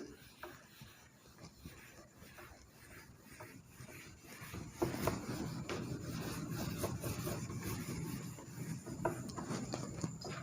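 A board is erased by rubbing in a classroom lesson, producing a faint, continuous scratchy scrubbing of repeated strokes that grows denser and busier toward the end, with no speech.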